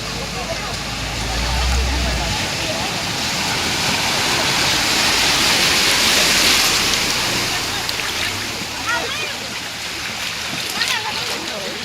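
Heavy rain from a cloudburst in Bajud floods the road, giving a steady, loud rush and splash of water that swells and eases. A person talks over it at times.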